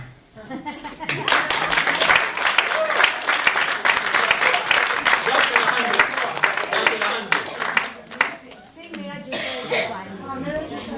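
Audience clapping in a hall, a dense burst of applause that rises quickly and holds, with coughs and throat clearing scattered through it and some voices underneath.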